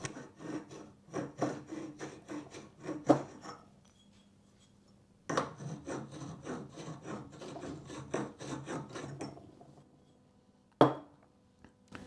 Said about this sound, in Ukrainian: беремо наш гратус-знімач і знімаємо всі задирки